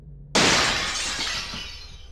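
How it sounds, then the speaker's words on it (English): A small glass window in a door smashes suddenly and loudly after a quiet moment, a sharp crash followed by a bright, fading shower of breaking glass. "The man's arm came smashing through the small window on the door"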